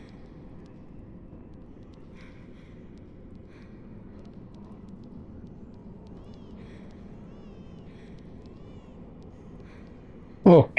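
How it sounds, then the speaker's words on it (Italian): A house cat meows faintly, wanting to be let outside, a few soft cries half-buried under a steady low hum, followed by a sudden loud bump at the very end. "c'è il gatto che vuole uscire"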